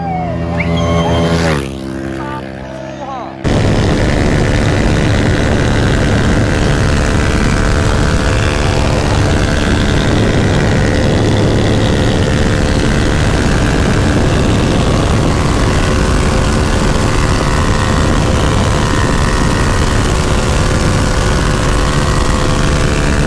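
A loud, sustained engine roar with dense broadband noise dominates, from a 1985 Honda CG motorcycle fitted with a CRF 230 engine running alongside an XT660, after a brief quieter opening.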